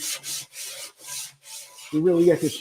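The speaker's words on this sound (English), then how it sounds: "So when I do my sanding in the opposite direction" Rhythmic back-and-forth strokes of sandpaper rubbing a surface, about six even passes, followed by a squeaky, scraping rub at the end.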